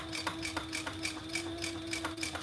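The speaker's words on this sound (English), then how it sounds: "we're gonna top stitch 2 rows of top stitching" A sewing machine runs top stitching on a wallet with a steady, fast needle rhythm of even ticks over a continuous motor hum, close and moderately quiet, with no voices.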